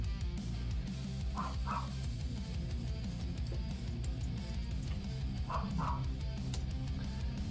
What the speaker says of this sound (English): sorry if you hear the dog barking